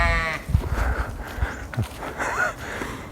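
A sheep bleats outdoors in countryside near Woodhenge and Stonehenge, a couple of short calls at middle distance over wind noise and faint rustling.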